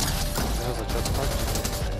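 Close, loud bursts of automatic gunfire fill a Fortnite match, a rapid continuous volley with little pause.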